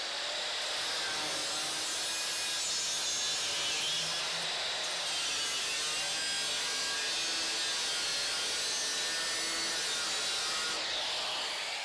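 A harsh, continuous high-pitched grinding screech of an angle grinder cutting a rusty 1970 Holden HG ute roof panel, loud and unbroken from start to finish.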